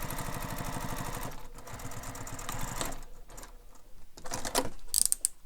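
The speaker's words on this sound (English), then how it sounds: "then we're going to top stitch that" A sewing machine runs a steady, rapid top stitch along a bowler bag, close and continuous for the first few seconds, then slows into scattered short bursts and mechanical clicks.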